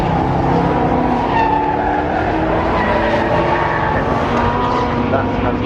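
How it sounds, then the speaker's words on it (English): A Ford Mustang race car roars past at a historic motor racing meeting at Donington, its loud engine note rising and shifting under crowd noise and a commentator's voice throughout. "A Mustang going through."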